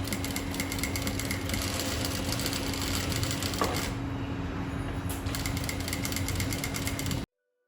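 A sewing machine runs continuously as it stitches along the neckline edge of kameez fabric, a close, steady, rapid mechanical whir with a brief hitch near the middle before it stops abruptly.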